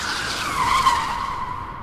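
A car brakes hard to a stop in a dramatized audio story, tires skidding with a sustained squeal that swells in the middle and tapers off, heard alone without speech.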